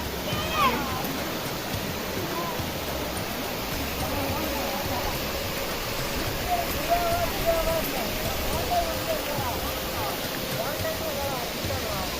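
Steady rushing water pours continuously, a broad hiss like a waterfall heard from nearby, with no breaks.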